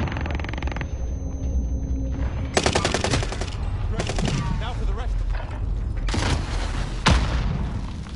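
Gunfire and explosions sound in the video game Warzone. Rapid bursts of automatic fire and several sharp, heavy blasts rise over a constant low rumble. Voices talk at points among the shots.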